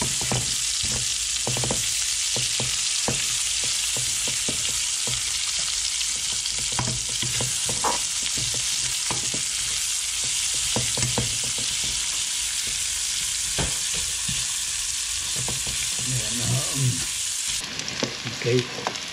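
Garlic and onion sauté in a pan for Filipino ginisang ampalaya, a loud continuous sizzle broken by frequent scraping stirs and clatters up close, with no speech.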